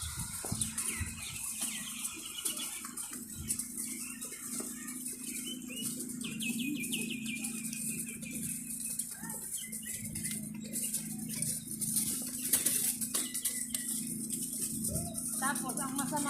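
A flock of birds chatters and flutters outdoors in Israel, with wing flaps and calls spread across a steady ambient bed while people talk nearby.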